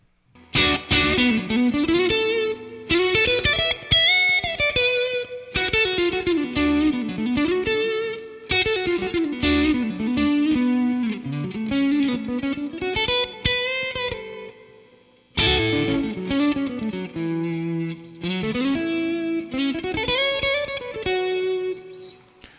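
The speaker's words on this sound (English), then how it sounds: "it's just a boost with distortion" An electric guitar played through a Drunk Beaver distortion pedal, a take on the Boss DS-1, with sustained gritty notes and bends in a melodic line, loud and up close, briefly pausing midway.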